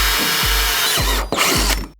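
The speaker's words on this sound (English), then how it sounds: "drill these holes right here that we see" A power drill whirs steadily at close range while drilling holes in a go-kart frame, its pitch dipping and rising in brief surges as it bites into material, then winding down at the end.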